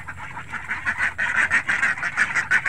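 A flock of ducks quacks loudly and continuously at close range while begging for feed, their rapid overlapping calls forming a busy chorus.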